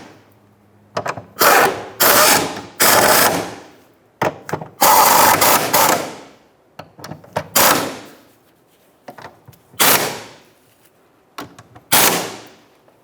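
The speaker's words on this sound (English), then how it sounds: "Now I'm going to take my 13mm socket and snug them all up." A ratchet with a 13mm socket tightens bolts on the spare tire carrier and hoist assembly of a 2002-2005 Ford Explorer, giving close, loud, repeated bursts of rapid clicking in irregular runs separated by short pauses.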